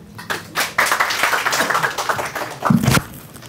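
Audience applause at a book ceremony for "Qarz e Jaan", a short burst of clapping that swells and then fades over a few seconds, with scattered hand claps and no voice over it.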